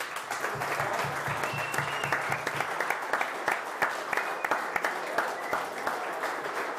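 Audience applause fills a hall at a live talk in Alvdal, steady dense clapping throughout with a few sharper individual claps standing out, fairly close and sustained to the end.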